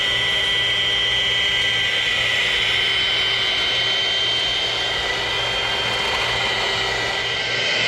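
Milwaukee handheld paddle mixer running steadily at high speed, a loud continuous whirring motor drone with a high-pitched whine that holds unchanged for the whole stretch, no voices over it.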